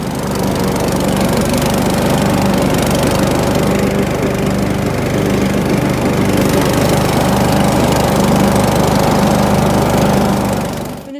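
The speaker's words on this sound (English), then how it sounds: "we're cutting the grass where the field is going to be" A lawn mower cuts grass on the ground being cleared for a wiffle ball field, its engine a loud, steady, close drone that runs unbroken with no talking.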